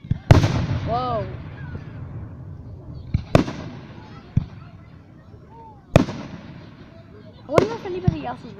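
Fireworks burst over Columbus in several sharp, loud booms spaced a few seconds apart, each followed by crackling and a fading echo, while spectators chatter and exclaim in the background.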